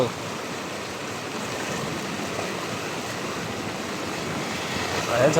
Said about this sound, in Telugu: ఇన్ని నీళ్ళు వస్తున్నాయి